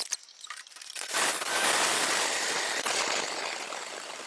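A brushed Titan 12T RC motor runs at half throttle while submerged in a jar of water. After a brief quieter start it becomes a steady, close, broadband churning whir that holds for several seconds.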